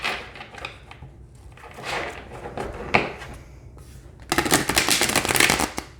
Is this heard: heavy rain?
no